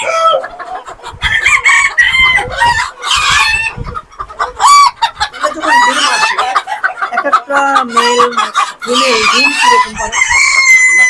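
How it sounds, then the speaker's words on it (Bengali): Golden Sebright chickens on a farm cluck and call in busy bursts, with a rooster crowing among them, close and loud throughout with little pause. "এটা হচ্ছে আপনার সেবরাইট সেবরাইটের জাত দুইটা আছে একটা সিলভার একটা গোল্ডেন এটা গোল্ডেন সেবরাইট"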